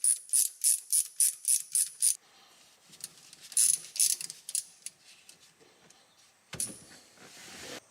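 A ratchet wrench backs bolts out of a Toyota Supra's T56 Magnum shifter, beginning with a fast run of seven or eight sharp, close clicking bursts, then quieter scattered clicks and a final rattle.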